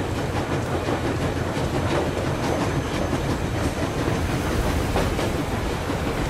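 A train rumbles steadily along its tracks in the Metro Exodus video game, a dense continuous roar with faint clacking throughout and no voices.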